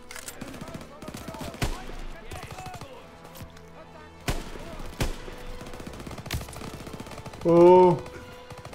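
Scattered gunfire in a Call of Duty WW2 factory mission, sharp isolated shots spread across a busy game soundscape, with a player talking over it and a short tonal cue near the end.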